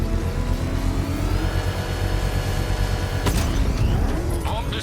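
A bomb is set off in a controlled explosion using a power winch in the Batman Arkham Knight video game, heard as a sharp loud blast near the end over a steady engine-like rumble and mechanical hum.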